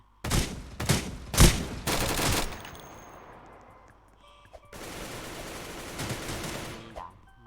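Gunfire rings out in a video game as players shoot at each other. Several loud, close bursts of rapid shots come early on, and a longer stretch of sustained firing follows after a quieter gap.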